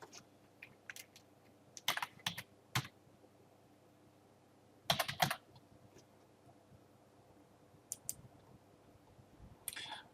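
Quiet keys on a computer keyboard are tapped in scattered clusters of clicks with pauses between bursts, close and fairly soft in a calm room.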